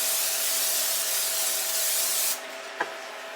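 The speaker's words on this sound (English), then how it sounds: "I'm just going to spray the pan down just so it doesn't stick." A steady, broadband hiss of aerosol cooking spray onto a pan runs continuously for over two seconds, then cuts off, followed by a single light tap.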